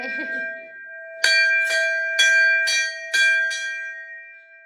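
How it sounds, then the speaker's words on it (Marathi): A temple bell in Pune rings loudly six times in a steady rhythm, each clear metallic strike ringing out, after a few soft background sounds at the start. "वाजव घंटी जोरात"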